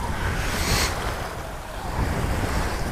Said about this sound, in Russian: с таким прохладным ветром. Вот такое большое озеро